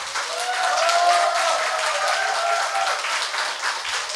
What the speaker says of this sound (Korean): 신앙성가와 출연자 모두에게 박수 한번 드립시다